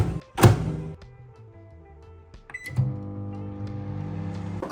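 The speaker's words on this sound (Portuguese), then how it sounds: "Vamos então ao micro-ondas fazê-las para depois provar cada uma delas." A microwave oven heating supermarket lasagnas gives off a steady electric hum. A sharp door thunk comes near the start, and another clunk comes midway before the hum carries on.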